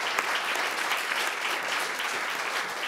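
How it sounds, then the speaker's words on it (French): Audience applause at a round-table discussion on corporate citizenship, a dense, steady burst of clapping that holds at an even level throughout. "On peut applaudir."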